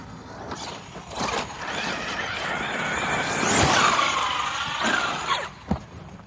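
A 5T RC truck with a Hobbywing Max 4 800kv motor runs on a blown-apart tire, its motor whining and rising in a long loud surge before easing, with a few sharp knocks near the end.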